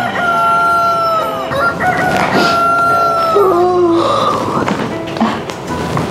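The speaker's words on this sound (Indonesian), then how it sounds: "Udah pagi deh suara ayam." A rooster crows in the morning, a long drawn-out call with a steady harmonic tone, fairly close and loud over a busy background with other fowl-like calls and noise, with no talk over it.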